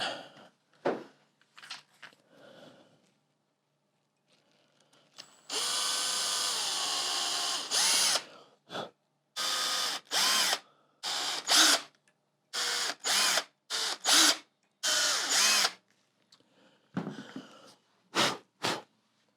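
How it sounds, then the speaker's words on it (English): Power drill driving screws into a semi-hollow guitar body, a long sustained run followed by a series of short whirring bursts with brief pauses between them, loud and close. "Gonna use a little bit of candle wax to get these screws seated in without breaking apart."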